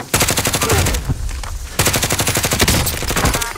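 Loud, close rapid-fire automatic gunfire in a Warzone Rebirth battle royale match, two long sustained bursts of dense rattling shots separated by a brief lull.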